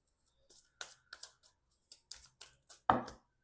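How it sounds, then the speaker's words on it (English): Tarot cards shuffled by hand during a reading, a series of soft irregular riffling and slapping taps ending in a louder snap, close and alone without talk. "Let's shuffle one more card."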